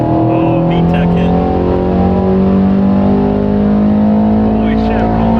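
A stock 2022 Subaru BRZ engine revs hard on a dyno, a loud, sustained drone with steadily rising pitch, while excited voices talk over it.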